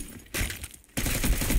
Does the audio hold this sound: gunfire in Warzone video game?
yes